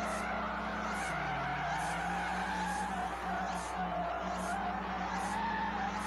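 A car drifts in the mobile racing game FR Legends, its tires skidding and squealing in a long steady screech over a droning engine note, with repeating short game tones above.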